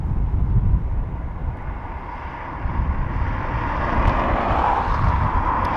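An inbound Aer Lingus airliner approaches Dublin Airport, a low distant rumbling engine roar that slowly builds and brightens.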